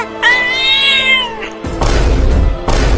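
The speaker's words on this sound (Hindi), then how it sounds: "ये बिल्ली अपनी दांतें दिखा रही है हमें काटने के लिए।" A cartoon cat gives a long, loud drawn-out meow, then snarls and hisses harshly in two rough bursts, close and prominent.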